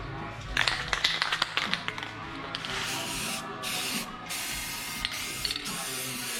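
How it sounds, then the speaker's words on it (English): A steady hiss of PTFE aerosol spray in several bursts onto holster molds, with clicks and light tapping early on, close by. "I hit him pretty good with some PTFE spray"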